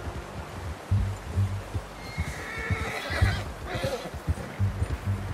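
Horse neighs and snorts in Red Dead Redemption 2 over a rhythmic clopping of hooves, close and moderately loud, with rustling outdoor ambience and no talk.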